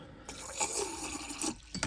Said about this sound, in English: now we've filled it completely to the brim with water